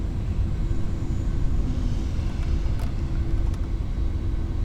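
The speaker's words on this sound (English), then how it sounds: "that was the APU sound that was turning off." Inside a Boeing 747-400F flight simulator game, the auxiliary power unit gives a steady, loud, low rumbling drone with a faint higher whine above it, unbroken for several seconds.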